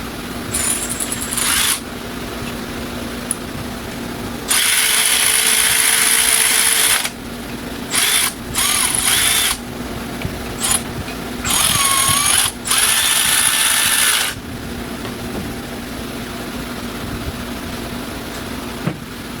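A ratchet tightens alternator bolts on a 2011–2017 Honda Odyssey in several bursts of rapid, close clicking of varying length, separated by quieter pauses with faint tool handling and no talking.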